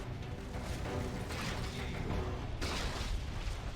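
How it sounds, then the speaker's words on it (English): Explosions and booming combat in the real-time strategy game Command & Conquer: Tiberium Crisis, a dense continuous rumble of blasts with a sharper burst near the end, no talk. "Loads of explosions."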